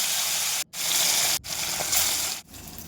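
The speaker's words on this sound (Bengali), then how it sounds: "কড়াই তেল দিয়ে দিয়েছি গরমও হয়ে গেছে মাছটাও দিয়ে দিলাম" Pieces of rui fish rubbed with salt and turmeric fry in hot oil in a wok, a loud, close, hissing sizzle broken by two or three brief near-silent gaps.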